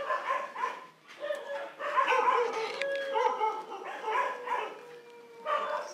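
Several dogs at a dog foundation shelter bark and yip repeatedly in overlapping bursts, moderately loud and steady throughout, with some whimpering mixed in.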